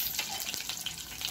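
Curry leaves and green chilies hit hot oil with a faint, brief crackling sizzle and a few soft pops, close by and without talk.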